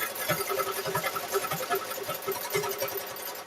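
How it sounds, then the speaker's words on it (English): A sewing machine stitching down the corner of a Christmas quilt binding, running in a steady rapid mechanical rhythm close by, with no talking. "we're going to stitch down that corner"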